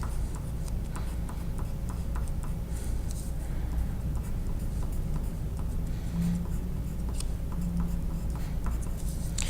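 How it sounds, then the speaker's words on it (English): A pencil scratches rapid short strokes on paper to draw grass texture, a steady rhythmic scratching and ticking that runs throughout over a low room hum. "we're going to do that by using our pencil to make these little lines."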